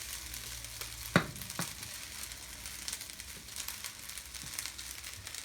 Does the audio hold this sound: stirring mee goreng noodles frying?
yes